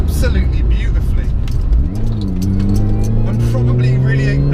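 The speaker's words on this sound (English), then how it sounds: "this car handles these sort of bends absolutely beautifully" An R53 Mini Cooper S drives along wet, potholed country bends, its engine droning steadily with rising revs and tyre hiss from the damp road, loud and continuous as a voice talks over it.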